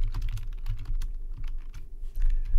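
Rapid typing on a computer keyboard, close and fairly loud, with quick irregular key clicks in short bursts and a brief lull near the end.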